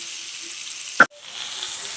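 Broiler chicken pieces fry in a pan, giving off a faint, steady sizzling hiss, broken by a brief sharp clatter and a moment of near silence.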